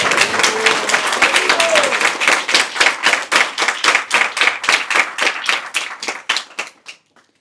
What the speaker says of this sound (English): we should all applaud Maharaj for it.